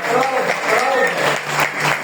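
A church congregation applauds during an evening worship service, a dense, steady wash of clapping with a voice carrying over it throughout.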